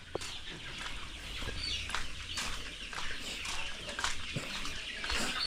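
Several chickens cluck and squawk close by in a busy farmyard chorus while feeding, with scattered sharp calls and rustling.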